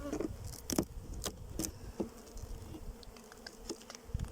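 Honey bees buzz around an open hive fitted with a honey super, a steady close drone with individual bees zipping past and some light clicks from handling the hive, and no one speaking.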